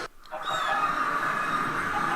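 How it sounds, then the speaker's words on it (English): Chickens and geese in a Minecraft mod called Rediscovered, a continuous honking, clucking poultry chorus that stays steady and fairly loud, with no talk. "Chickens, the geese here."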